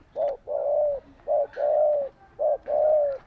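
A dove coos close by in three repeated phrases, each a short note followed by a longer, mellow hoot.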